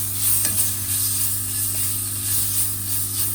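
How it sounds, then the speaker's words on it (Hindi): Sliced mushrooms sizzle steadily in a hot pan for a chicken steak with mushroom sauce, a bright constant hiss with soft scraping stirs, close and loud with no talking. "मशरूम भी इसमें डाल के तो इनको भी जो है बस हल्का सा फ्राई कर लेना है।"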